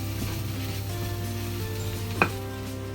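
Soya fried rice gets stirred in a hot pan under a steady frying sizzle, with a constant background hum and one brief scrape of the utensil against the pan partway through.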